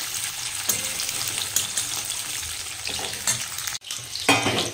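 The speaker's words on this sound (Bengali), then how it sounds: "পনির ভাজা হয়ে গেছে, এবার তুলে নেব।" Paneer pieces frying in hot oil in a pan, a steady loud sizzle with bursts of stirring and crackle, a brief dip near the end before the sizzling resumes; no talking.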